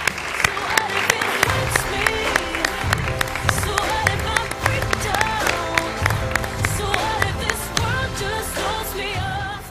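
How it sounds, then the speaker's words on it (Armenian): An audience at an X-Factor Armenia audition applauds a contestant, a steady wash of clapping and crowd noise that holds loud and continuous with rhythmic peaks throughout. "ծափարում ենք նրան"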